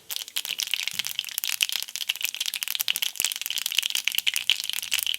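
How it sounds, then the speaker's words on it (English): Cumin and mustard seeds splutter in hot oil in a pan, a dense crackle of rapid sharp pops and sizzle that carries on steadily and close up. "add your cumin seeds and mustard seeds. Let it splutter."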